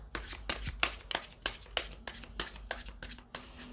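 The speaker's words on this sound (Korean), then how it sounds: "제가 이거 셔플할 때마다 느끼는 건데 제가 좀 다른 분들보다 공격적으로 셔플하는 것 같거든요" Tarot cards shuffled hard and aggressively, a close run of sharp slapping riffles and taps in a quick, uneven rhythm with no talking over them.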